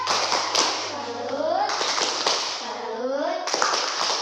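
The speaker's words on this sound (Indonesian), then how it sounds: "Kita tepuk salut buat Farhan. Tepuk salut." A primary school class in a fourth-grade lesson does a rhythmic patterned clap in praise of a pupil, bursts of tapping and claps in several segments mixed with children's voices calling along, fairly close and lively.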